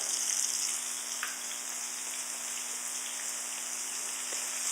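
Catfish pieces fry in hot oil with a steady, dense sizzle and crackle, fairly quiet and constant throughout, without any voices.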